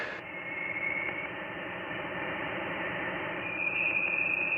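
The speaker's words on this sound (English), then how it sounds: "This is the sound of dense, vibrating plasma in interstellar space, which Voyager 1 managed to record between 2012 and 2013." Vibrations of dense plasma in interstellar space recorded by the Voyager 1 spacecraft between 2012 and 2013, heard as a steady hiss of static with faint high whistling tones that rise slightly near the end.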